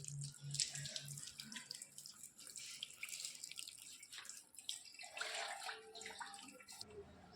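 Water runs and splashes from a tap fed by a motor-driven tank while a dog is bathed at home, a soft steady trickle with small drips and faint voices in the background.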